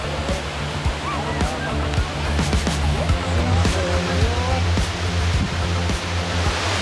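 Steady broadband roar of El Chiflón waterfall in Chiapas with its spray splashing nearby, a continuous wash of water noise under people talking.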